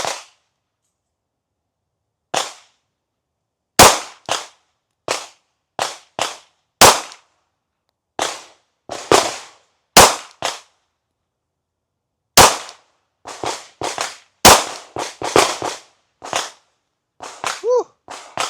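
Sharp pistol shots from an S&W Bodyguard 2.0 at 7 yards on a range, fired singly and in quick strings with short pauses between, crisp and close.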